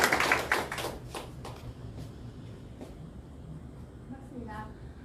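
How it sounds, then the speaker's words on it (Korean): Short applause from the audience at a public history lecture on Gaya, a burst of clapping that quickly fades into a murmur of room noise and faint voices. "박수 한번 부탁드릴게요."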